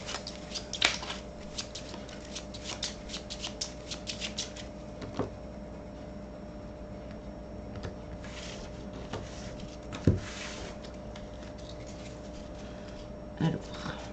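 Playing cards are handled, shuffled and drawn for a card reading, with soft scattered rustles, flicks and taps close by under a quiet background.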